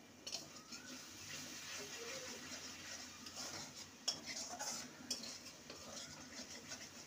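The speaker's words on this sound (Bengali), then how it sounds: "ভালো করে নেড়ে নেব" Spiced pointed gourd curry is stirred in a pan, with faint scraping and clinks of a utensil against metal at close range and occasional louder knocks.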